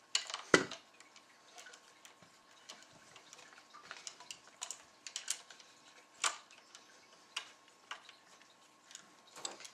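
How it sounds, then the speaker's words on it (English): Small screws being driven by hand with a screwdriver into an ECHO1 G36C airsoft gun, scattered light clicks and ticks with a few sharper knocks, close and quiet with pauses between. "just continue screwing these screws in"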